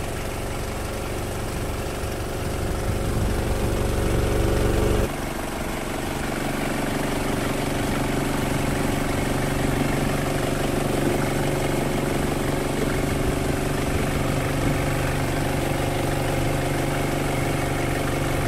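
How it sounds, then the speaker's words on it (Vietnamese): A 2006 Ford Ranger engine idling, a steady, even mechanical drone with a constant low hum, recorded up close; a brief shift in tone around five seconds, then smooth idle continues. "đây là toàn bộ tiếng động cơ đang hoạt động này. Máy chạy khá là chắc"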